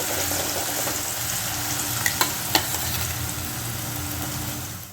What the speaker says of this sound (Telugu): దీన్ని ఆయిల్ బాగా ఫ్రై చేద్దామండి పచ్చి వాసన పోయే వరకు 2 నిమిషాలు